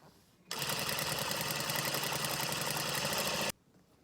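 A sewing machine runs in one steady, even burst of about three seconds, stitching a seam in a bed-sheet isolation gown, starting and stopping abruptly.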